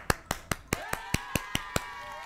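A steady run of about nine crisp, evenly spaced claps from one or a few people in a studio talk programme, sharp and close, with a voice and tonal sounds running underneath.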